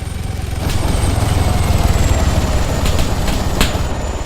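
A helicopter flies in the military video game ArmA 3, with a loud, continuous low rotor thump and engine roar filling the scene, steady and close throughout.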